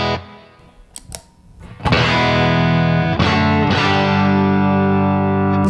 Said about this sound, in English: So now I'm going to turn up the boost halfway